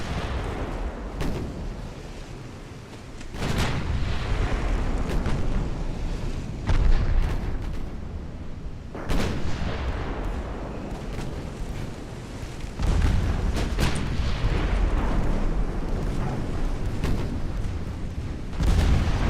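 Naval guns firing in Ultimate Admiral: Dreadnoughts, a string of loud, heavy booms spaced a few seconds apart, each cracking sharply and then rolling off into rumbling battle noise, with no voices over them.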